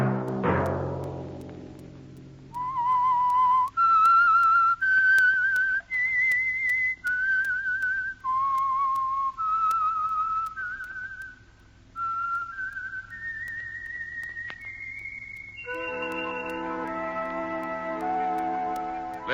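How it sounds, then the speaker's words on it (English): Whistled theme melody of the radio drama The Whistler, a solo tune of sustained notes stepping up and down, close and clear after a brief opening chord. "Let that whistle be your signal for the Signal Oil program, The Whistler"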